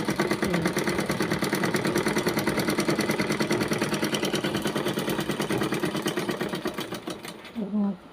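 A sewing machine runs steadily for about seven seconds, its needle stitching in a fast, even, close rattle before stopping, followed by a brief low thump.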